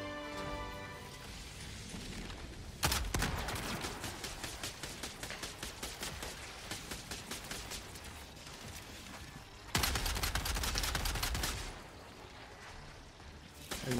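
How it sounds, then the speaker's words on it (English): A teammate fires in the video game Helldivers 2, heard as rapid bursts of gunfire that come in two loud stretches over a steady game background. "I can like hear one of you shooting."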